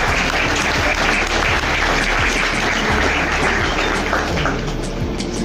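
A studio audience welcomes a host with loud, dense and continuous applause at a Radio Pakistan Diamond Jubilee tribute program for Mehdi Hassan.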